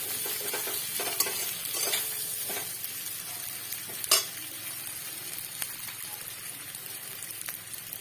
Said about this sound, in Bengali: খুব ভালো করে নেড়ে চেড়ে ভেজে